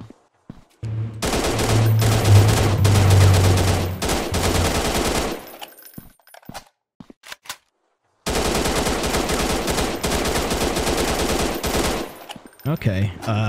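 Rapid automatic gunfire mowing down zombies in the low-poly survival game Zombie Town, two long loud bursts of fire separated by a brief pause with a few scattered shots.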